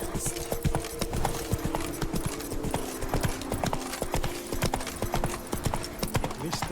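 Roach, a horse in The Witcher 3: Blood and Wine, gallops in a fast, steady clip-clop of hooves, close and continuous, under intermittent game dialogue.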